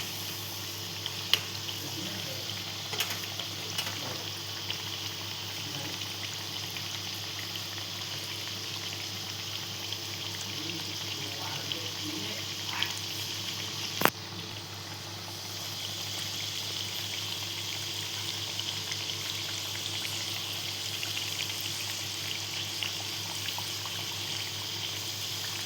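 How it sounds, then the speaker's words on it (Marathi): Potato bites frying in hot oil for extra crispness, a steady dense bubbling hiss that runs unbroken and fairly loud, with a brief sharp click near the middle. "क्रिस्पी करायचे म्हणून थोडे जास्त फ्राय करायचे आहेत आपल्याला."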